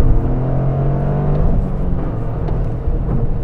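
Toyota GR Corolla RZ engine revving hard in sport mode from inside the cabin. A loud, close, sustained engine note climbs at first, then settles into a busy mechanical roar, with no talk.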